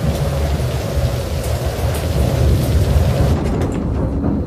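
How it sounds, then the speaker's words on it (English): Heavy rain pours down during a thunderstorm over an airport, a loud, steady roar of broadband noise with deep low rumble throughout, easing slightly near the end. "right now we have heavy rain on the airport"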